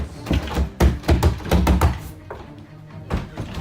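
Someone tries to open a locked door, producing a series of loud thuds, rattles and knocks in irregular bursts with short pauses between.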